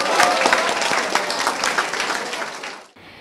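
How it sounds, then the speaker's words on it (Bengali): An audience at a high school quiz competition gives loud, dense clapping for a volunteer who also answered questions, sustained for about three seconds and then cutting off abruptly. "ওর জন্য হবে জোরে একটা হাততালি"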